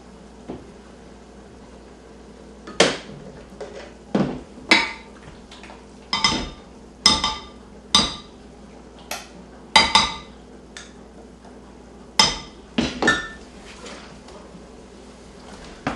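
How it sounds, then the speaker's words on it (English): A whisk clinking against a bowl while mixing ingredients, heard as a series of sharp, close metallic taps and scrapes in irregular clusters over a quiet background. "And back to the old trusty whisk."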